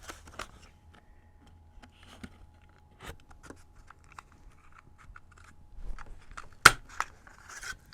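A butterfly-shaped craft punch cuts through paper during card making. Sparse, sharp clicks and crunches recur irregularly, with one loud snap near the end. Quiet handling noises fill the gaps.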